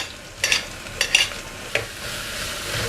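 Beetroot tipped into a hot pan with green chillies and curry leaves and stirred: a soft sizzle with a few quick, close scraping and clinking stirs, then the frying settles.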